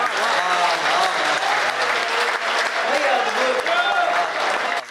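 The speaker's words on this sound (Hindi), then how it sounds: "तालियां अभी कमजोर हैं।" Audience applause at a Hindi poetry recital, a dense, steady clapping from a large crowd, fairly loud and sustained, with voices faintly underneath.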